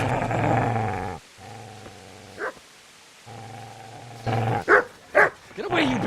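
A dog growls and barks in the medieval video game Kingdom Come: Deliverance, with low sustained snarls broken by a pause, then sharp, loud, close barks near the end, over faint game ambience.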